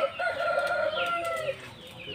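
Roosters and chickens of a prized breeding line in Gudimellanka crow and cluck nearby, a long drawn crow followed by a second call, loud against a quiet yard.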